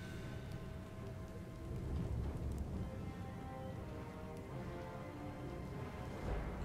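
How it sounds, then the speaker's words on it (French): Rain and rolling thunder from a battlefield in the strategy game Total War: Warhammer, a steady, fairly quiet wash of rainfall with low rumbles running throughout and no talk. "Super, il pleut."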